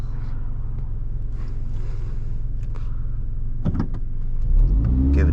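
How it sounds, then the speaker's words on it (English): A 2013 Subaru BRZ pulling away from a stop light, heard from inside the cabin: a low, steady engine drone that swells into a deeper surge of acceleration near the end. "Give it an acceleration off the light."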